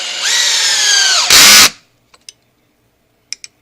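A power drill runs while a wooden garden box is being built for a flower bed: a steady motor whine rises to a louder burst of drilling for a moment, then cuts off, leaving a few faint clicks.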